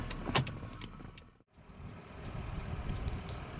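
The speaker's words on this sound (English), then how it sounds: "Automatic driver's side window" The driver's side power window of a 2000 Toyota Camry XLE motors along with a low whirring hum, briefly stopping with a sharp cutoff midway before running again, faint clicks at the start.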